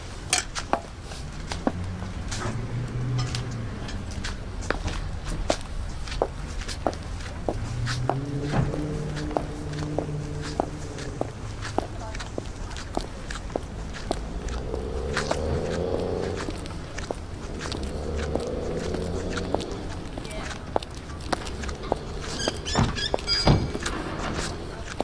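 Footsteps in Funtasma REFEREE-200 costume boots, a steady run of sharp heel clicks on a hard floor, close and moderately loud, with faint background sounds.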